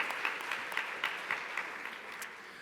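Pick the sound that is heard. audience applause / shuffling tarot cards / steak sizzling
audience applause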